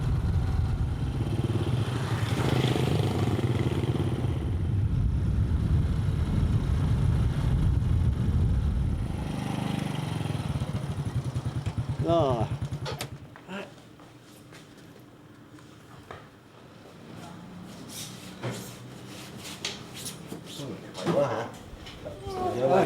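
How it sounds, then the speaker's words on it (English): A moped carrying a child to hospital along a rough road in the rainy season, its engine buzzing steadily up close for about twelve seconds, then fading under clattering and other scattered noises, with a narrator talking over much of it. "the child has to be taken to hospital on the moped"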